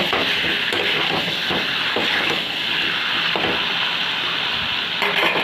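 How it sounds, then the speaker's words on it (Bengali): Chicken curry with spices sizzles and scrapes steadily in a pan, a continuous loud frying hiss with occasional stirring knocks throughout. "বন্ধুরা কষানো চলছে এখনো।"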